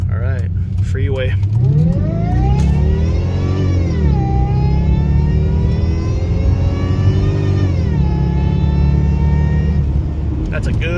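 A supercharged V8 Jaguar S-Type R with rear-wheel drive accelerates hard onto a freeway. The engine revs climb through several gear changes, loud and close, with a steady whine over the exhaust note.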